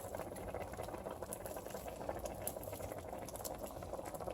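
Spaghetti sauce with meat and sausage simmers in a pot, a steady, soft bubbling and popping that runs evenly throughout at a low level, with no voices.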